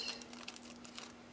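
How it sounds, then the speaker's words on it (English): Paper being torn by hand for an art collage, a short close crinkly rip with soft crackling texture, quiet and alone with no talking. "I want to tear it because it's going to sink into my page much better"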